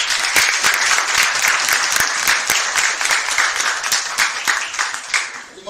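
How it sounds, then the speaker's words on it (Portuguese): A church congregation bursts into applause, dense clapping sustained at a steady loud level for several seconds before starting to thin at the end. "Vamos aplaudir a palavra do nosso Deus."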